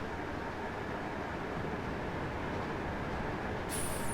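A train passing on the West Coast Main Line, a steady broadband rumble and roar held at constant loudness throughout, close by, with a brief high-pitched squeal near the end.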